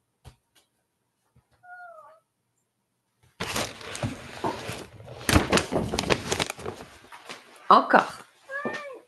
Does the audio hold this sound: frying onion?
no